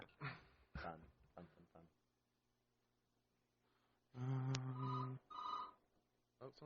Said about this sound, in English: someone's calling us. We have a phone call.